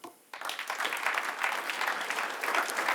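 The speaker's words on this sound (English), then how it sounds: "May I have a great applause for Dan Barna." Applause from a panel discussion audience breaks out after a brief quiet moment, many hands clapping steadily and loudly throughout.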